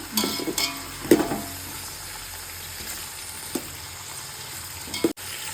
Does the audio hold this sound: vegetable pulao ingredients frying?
yes